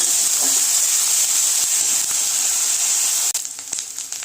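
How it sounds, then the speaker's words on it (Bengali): Grated onion fries in a pan for a Bengali katla fish kalia, a loud steady hiss and sizzle that briefly drops near the end with a few stirring knocks. "এবার পেঁয়াজটা একটু আমি হালকা ব্রাউন করে ভেজে নেব একটু।"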